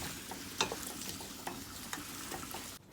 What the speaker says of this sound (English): I like to take the whole pot and shake it up so everything from the bottom can get mixed in well